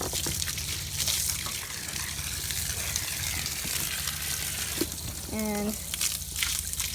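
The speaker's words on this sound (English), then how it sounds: "the first thing first is you're going to turn on your water" Water runs from a hose used for washing a horse, a steady rushing hiss that fills the scene while a person talks over it.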